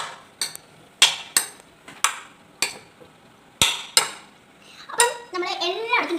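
A spoon mixes food with salt in a metal pot, giving a series of sharp, close clanks at an uneven rhythm, followed by a brief rougher scraping stir.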